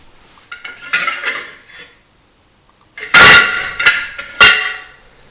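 Sharp impact strikes on 1 mil PVC edgebanding, a few loud cracking hits in the latter half following softer handling clatter and a short pause.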